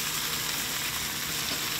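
Breaded hogfish fillets coated in crushed almond flour, salt and pepper fry in a pan, giving a continuous dense sizzle at steady loudness with no talking over it.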